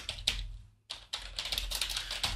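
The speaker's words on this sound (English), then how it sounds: "I'm going to type in beginning" Quick keystrokes on a computer keyboard, a short flurry of clicks after a brief gap, close and fairly quiet over a low hum.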